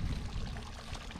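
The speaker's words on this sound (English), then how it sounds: "Love the sound of water too." Water pours and trickles outdoors at a park setting, a continuous splashing flow with a bubbly, uneven texture, fairly close and moderately loud, with no voices.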